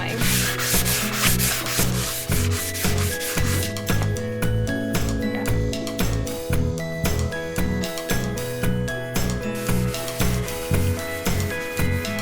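Steady rhythmic rasping of sandpaper worked back and forth across a car roof, loud and close, continuing without pause and with no voices.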